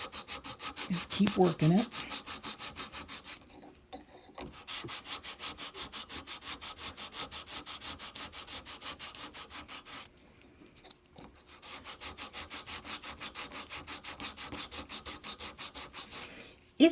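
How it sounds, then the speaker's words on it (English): Excess solder is sanded off a metal sheet in long stretches of steady scratchy rubbing, broken by two short pauses, with a few words spoken briefly near the start. "So the blob is getting smaller and smaller as I sand"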